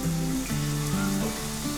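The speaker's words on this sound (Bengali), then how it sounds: "এবার একটা একটা করে আমি এর মধ্যে ছেড়ে দিচ্ছি।" Pieces of lentil cake frying in hot oil in a pan for an egg dhokar dalna, giving a loud, steady sizzle with no voices.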